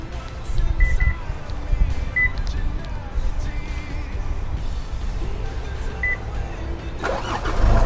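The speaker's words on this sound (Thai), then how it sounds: "คือเรากดที่รีโมทและสตาร์ทนอกรถเพื่อปรับอุณหภูมิในรถสำหรับผู้โดยสารโดยตรงได้เลยนะครับ" A 2022 Isuzu MU-X, started by remote from outside, gives short beeps and chirps over a low, steady engine rumble heard from nearby, which swells again near the end.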